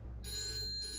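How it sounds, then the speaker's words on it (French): A telephone rings in the night, a faint electronic trill sounding bright and steady, held for a single short burst with a low hum underneath. "À cette heure-ci, un téléphone qui sonne ne peut qu'être porteur de mauvaises nouvelles."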